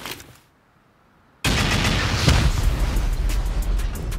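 Rocket explosions blasting a sheet-metal base during a video game raid burst in after a short near-silence, then roar on as a loud, continuous, rumbling barrage of blasts with no talk.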